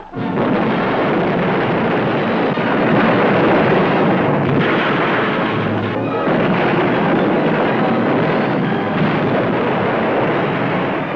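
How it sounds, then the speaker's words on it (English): Cannon broadside from a sailing ship in a swashbuckler film, a dense sustained roar of booming gunfire and rumbling blasts, loud and continuous for several seconds. "Gunners waiting for a broadside. Primed and ready, sir. Armed and ready, sir. Ready, sir. Fire!"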